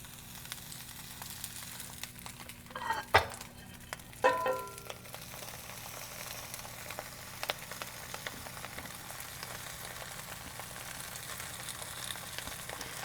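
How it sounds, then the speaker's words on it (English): Romaine lettuce drizzled with olive oil sears in a hot cast iron skillet, a faint steady sizzle with a couple of louder crackling bursts early on as it is pressed down, then settling into a low hiss. "Cast iron skillet, get it really hot, and then apply pressure because you want to sear"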